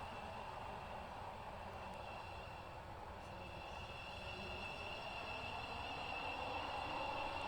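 A metro train in the video game Stepford County Railway rolls toward a station with a low rumble of wheels and a steady high electric whine, quiet and unbroken.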